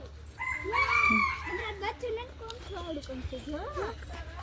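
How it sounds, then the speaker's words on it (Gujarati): A rooster at Pradyuman Park zoo in Rajkot crows nearby, followed by several clucks and short calls, with a low hum in the background. "અહીંયા કુકડો આયલો જાય છે"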